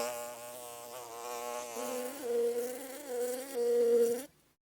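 Bumblebees give a gentle, steady buzz that hums continuously near the listener and grows slightly louder in swells before stopping abruptly near the end.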